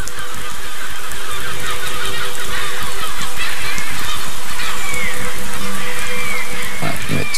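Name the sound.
flock of geese honking, birds in the video game Besiege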